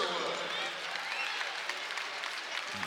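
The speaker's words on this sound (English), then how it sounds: "Sherwood will sit, gets a nice round of applause." Crowd applause ripples through a college basketball arena as a player heads to the bench, a dense, fairly distant clapping wash that holds steady for a few seconds, with a voice talking over it.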